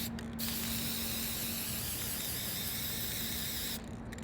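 A dollar spray paint can fitted with a quick color cap lets out one steady, loud hiss of paint lasting about three and a half seconds, close by with no voices.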